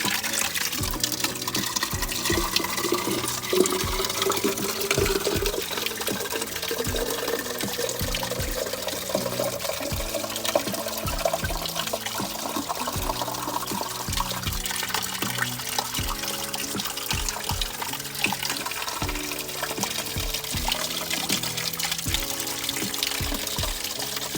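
Cold spring water flows out of a mountainside, a steady close trickle and splash that runs unbroken, with faint background sounds and no talking.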